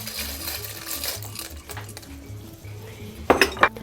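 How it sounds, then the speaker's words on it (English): Dry macaroni tipped into a pot of simmering soup with ground beef, a steady low bubbling under clattering pasta and a few sharp metallic clinks of pot and utensil near the end. "Now I'm gonna add my macaroni."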